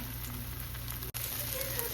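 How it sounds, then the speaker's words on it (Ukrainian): Syrniki, cottage cheese pancakes, frying in oil in a pan over high heat, giving a steady, dense sizzle throughout with one brief dropout midway and no talking. "Доки сирнички смажаться"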